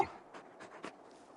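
A large dog in the video game Final Fantasy XVI pants and whimpers softly, in a few short breathy bursts that are faint and close.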